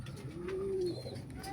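Pigeons inside a loft give one soft, low coo that swells and fades, with faint chirps and light rustling around it. No voices.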